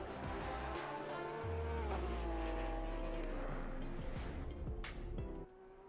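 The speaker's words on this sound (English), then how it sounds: "You can listen to the nice sounds of engines going around this track." GT race cars in the sim racing game Assetto Corsa Competizione roar loudly around the Kyalami circuit, a dense sustained engine drone with shifting pitch that swells mid-clip and drops away at the end.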